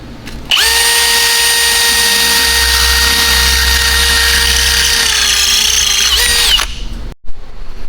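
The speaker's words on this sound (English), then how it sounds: "Drill 2 holes, put the intercooler on, call it mounted, and move on to the next thing." A power drill bores through a flat metal strap for mounting an intercooler on an El Camino, a loud steady high whine with a grinding edge running for about six seconds before winding down and stopping.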